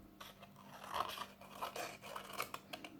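Scissors snip and crunch through cardboard, trimming excess from a basket base woven from newspaper tubes, with a quick run of close, dry cuts and scratches.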